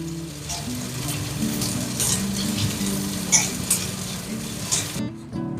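Onions frying in a pan with turmeric, a loud, steady sizzle close by with a few stirring scrapes and clinks, ending abruptly.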